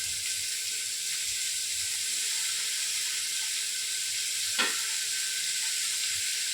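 Tomatoes frying with onions in a pan, giving a constant, fairly loud hissing sizzle that holds steady throughout with one brief clink near the end.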